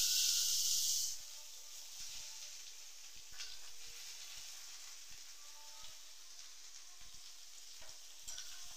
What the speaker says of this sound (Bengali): ফুলকপিটা ভাজা হয়ে গেছে, আমি তুলে নিচ্ছি